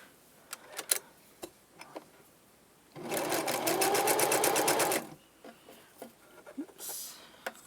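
A sewing machine stitches fabric for a gothic lolita veil in one close, steady two-second burst of rapid mechanical ticking, framed by quiet handling clicks and taps.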